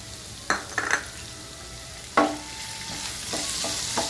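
Tomatoes and softened onions fry in a pan, a soft steady sizzle broken by several scraping, clattering stirs of a utensil, close and fairly quiet.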